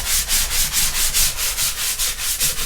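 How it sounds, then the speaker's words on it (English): Rhythmic back-and-forth sanding strokes on canvas with a fine-grit foam sanding sponge, a soft raspy rubbing repeated about every quarter second, close and steady. "a sand, like a sponge like thing that has foam, and a thin layer of sandpaper on there"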